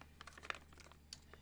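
A plastic bag of Kodak 3D printing filament is ripped open across the top. The crinkling and tearing is faint and brief, with a few quick, soft crackles close by.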